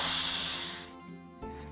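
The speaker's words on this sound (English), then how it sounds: "I'm going to release the steam valve." Steam hissing hard from the pressure release valve of a Crockpot multi-cooker after cooking braised whole chicken, a loud close rush that cuts off abruptly, leaving a quiet hum and a small clunk.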